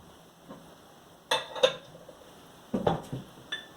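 Spoon scraping and clinking against a bowl while brownie batter is stirred, with a few scattered soft knocks and two louder bursts of clatter, close by and without talk.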